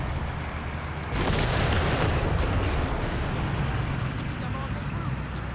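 Heavy mortar fire in Company of Heroes 3, a 2v2 match on the Frost map, with dense booming shell impacts starting after a quiet second and rumbling continuously at loud volume through the rest of the clip.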